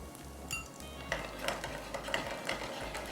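Garlic crackles in a small tadka of hot oil in a pan. A faint, low sizzle runs under intermittent clinks and scrapes of a spoon stirring against metal, all fairly quiet.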